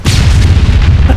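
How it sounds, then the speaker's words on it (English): A loud, close explosion from an armored vehicle attack in the Arma 3 video game, heavy low booming rumble that fills the whole moment with rolling concussive energy, no voices over it. "the armored vehicle just blew us up"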